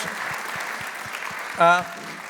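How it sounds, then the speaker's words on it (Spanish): Church congregation applauding, a steady wash of clapping heard from a distance, with a short voice cutting in near the end. "¿Por qué no damos un fuerte aplauso a todos los jovencitos que están sirviendo"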